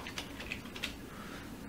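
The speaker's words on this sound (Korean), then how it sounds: "타이핑을 하시고" Quiet typing on a computer keyboard at a desk, a few sparse key clicks spaced irregularly over a soft room hum.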